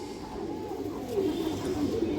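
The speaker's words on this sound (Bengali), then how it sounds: "ইন্ডিয়ান হাই ফ্লায়ার কালদম মাদি কবুতর দর্শক" A female Indian High Flyer Kaldam pigeon coos in soft, low, repeated murmurs that are steady and close by. A faint murmur sits under the cooing.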